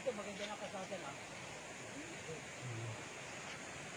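A river flows beside a farm lot in Majayjay, Laguna, making a steady, broadband rush of moving water throughout, with voices talking over it near the start.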